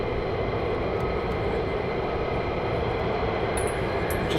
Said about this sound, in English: And we have more F-35s taxiing down as well